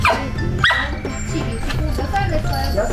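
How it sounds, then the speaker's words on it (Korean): A dog at a veterinary clinic visit for neutering growls and gives short yips and barks, close and fairly loud, while people talk in the room. "오, 호미가 으르렁했어"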